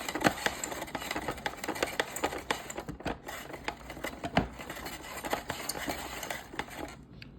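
A vegetable spiral slicer cranked by hand for a salad, giving a steady run of close, rapid ratcheting clicks and scraping cuts that continue throughout with no talk.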